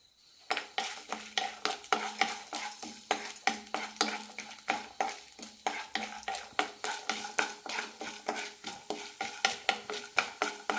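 Chana dal, urad dal and peanuts frying in a tablespoon of oil in a pan, stirred with a spoon that scrapes and clicks in a fast, steady rhythm over a light sizzle.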